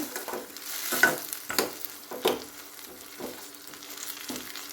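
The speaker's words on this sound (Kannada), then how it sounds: "ಅಷ್ಟು ಚೆನ್ನಾಗಿ ಫ್ರೈ ಮಾಡ್ಕೊಳ್ಬೇಕು." Mushroom gravy masala frying in oil gives a steady close sizzle with several louder stirring scrapes spread through it and no voices.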